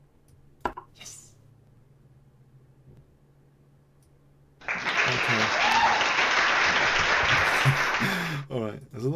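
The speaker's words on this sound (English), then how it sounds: "there's a lot of applause on this site." Canned applause sound effect on a chess website plays loud and steady for about four seconds after a quiet stretch with a brief spoken word, then cuts off abruptly.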